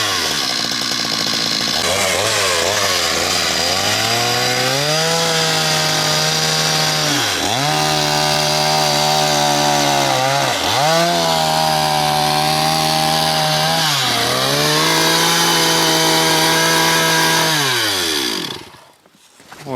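A gasoline chainsaw cuts a wooden beam along a pencil-marked line for a one-storey house with bathhouse, a loud close engine drone dipping under load several times before revving down and stopping at the end.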